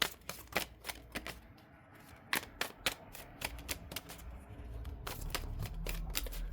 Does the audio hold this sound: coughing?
no